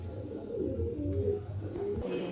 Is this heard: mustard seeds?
no